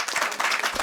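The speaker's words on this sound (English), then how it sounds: "Ladies and gentlemen, a big round of applause for Tanya" Brief applause from an audience at a press conference for a parliamentary candidate in Tottenham, a short burst of scattered hand claps that swells and dips unevenly.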